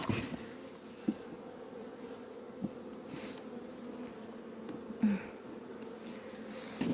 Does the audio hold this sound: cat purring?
no